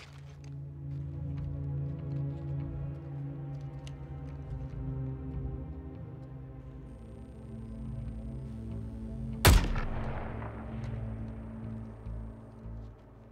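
A single sharp, loud gunshot cracks out in the Suicide Squad: Kill the Justice League video game, then rings away over a steady bed of droning game music and ambience.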